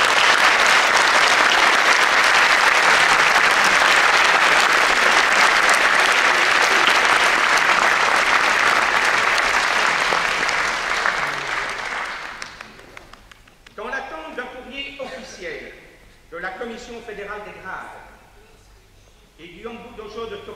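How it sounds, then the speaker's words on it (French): Sustained, dense applause from an audience at an aikido school's Kagami Biraki New Year ceremony in Nivelles, loud and steady for about twelve seconds before dying away, followed by someone speaking. "Puis-je vous demander d'applaudir Amandine et Dominique?"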